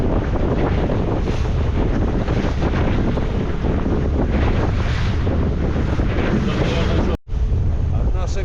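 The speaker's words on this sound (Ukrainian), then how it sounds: "вітер, звісно, клас. Як вам народ хвиля?" Strong wind buffets the microphone while heavy two-metre waves of the Norwegian Sea surge around a fishing boat, a loud, constant roar with a brief dropout near the end and no clear speech.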